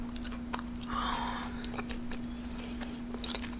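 Bubble gum chewed close to the mic in an ASMR setting: soft, steady wet smacks and clicks repeating over a low constant hum, with no talking.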